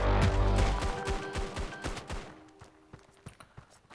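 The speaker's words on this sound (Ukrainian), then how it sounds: "Хто мені там в дупу стріляє?" Gunfire in the Standoff 2 shooter game: a rapid string of sharp shots over a dense mix, thinning into sparser, scattered reports toward the end.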